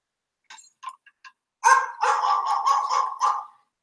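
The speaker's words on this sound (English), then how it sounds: "I always like playing that video to the end where the dog barks" A dog barks at the end of a played video clip, a few short yips followed by a loud burst of rapid, continuous barking lasting a couple of seconds, close and clear with no talking over it.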